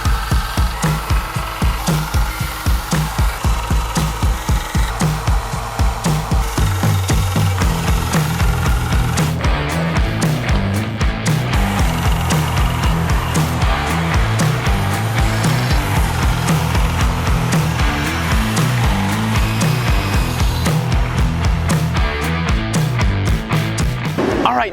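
Steel hunting knife blade being ground on abrasive belts in a grinding room: a continuous loud whir of belt and motor with rhythmic scraping as the blade is pressed and drawn across, running throughout with no talk.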